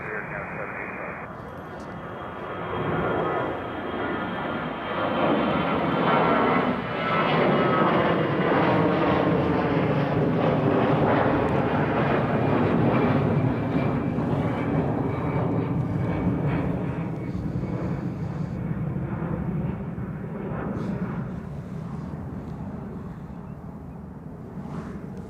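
A Boeing 777-200LR jet roars at Toronto airport, a broad engine rush that swells and holds for most of the stretch before easing off slightly, heard from a distance and steady in level.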